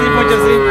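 Pregnant cow about eight and a half months along, with five teeth, lowing at the Sonaichandi cattle market in Bangladesh; a single loud, close, sustained moo fills the moment.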